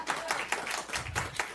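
Light, sparse clapping from a small congregation at a spiritual living center's Sunday service, a handful of distinct hand claps in an uneven rhythm, soft and somewhat distant.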